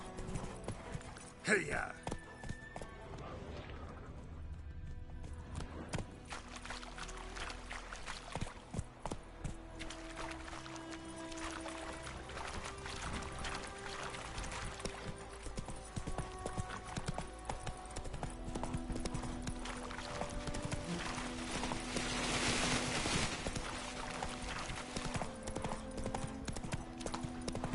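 Roach the horse gallops in the Witcher 3 video game, a steady run of hoofbeats over game music and ambience across the whole stretch, with a shouted voice and talk in between.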